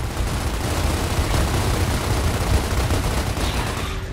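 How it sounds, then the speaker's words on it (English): Dense, continuous gunfire in Gears of War Ultimate Edition rattles in rapid overlapping bursts, loud and unbroken for about four seconds. "All I see is like gunfire."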